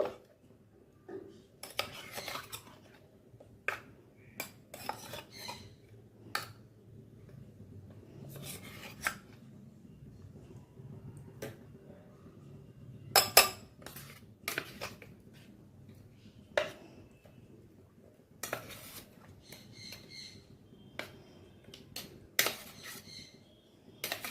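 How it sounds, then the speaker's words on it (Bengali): Hilsa fish pieces being mixed by hand in a bowl with seasoning for bhapa, giving irregular clinks and scrapes of utensil against dish, some sharp and close, with quiet gaps between. "মাছগুলোকেও দিয়ে দিলাম দিয়ে ভালো করে মিশিয়ে নেব"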